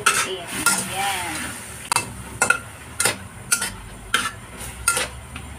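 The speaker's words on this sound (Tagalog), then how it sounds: "dahil kumulo na siya, pwede na natin halutin" Squid adobo being stirred in a pan after it comes to a boil, with repeated sharp utensil clinks and scrapes against the pan over a low simmering background.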